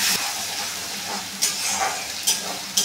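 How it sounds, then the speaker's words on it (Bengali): Ginger, garlic, coriander, cumin and chilli paste frying hard in a pan, a loud continuous sizzle with three sharp spatula scrapes against the pan toward the end, close up. "দিয়ে ভালো করে কষিয়ে নেবো মশলাটা।"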